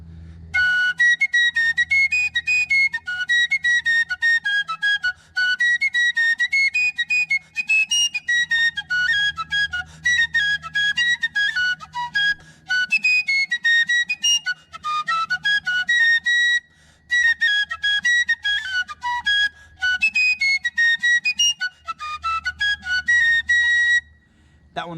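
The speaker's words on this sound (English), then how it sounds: "So their dinner call, which is played at noon, sounds like this, and it's called roast beef." Civil War army dinner call 'Roast Beef', a bright bugle-like melody of quick repeated and stepping notes. It plays continuously and alone for about 25 seconds over a faint low hum.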